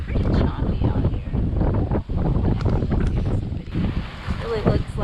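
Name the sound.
wind and choppy sea on a sailboat passage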